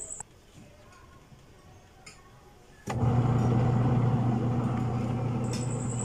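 A repaired washing machine switches on partway through after a few faint clicks, then runs with a loud, steady motor hum and rumble until the end.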